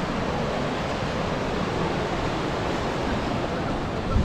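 The Yamuna river rushing beside the starting point of the Yamunotri trek in the Himalayas, a steady broad roar of fast-flowing water filling the clip evenly and loudly, with no talk over it.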